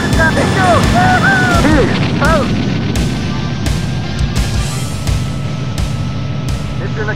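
Gunfire from a fighter jet in the Air Combat video game, with evenly spaced sharp booming shots over a dense, loud engine-and-battle roar, while a voice talks early on.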